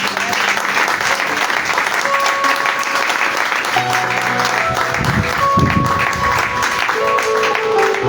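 A church congregation applauding during a sermon, loud sustained clapping from the pews with some voices and music tones mixed in.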